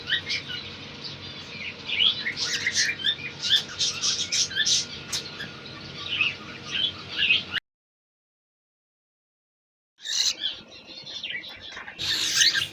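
Cockatiels, a breeder pair with their chick, chirp and squawk in a cage, bright busy calls that cut out into silence for a couple of seconds before resuming.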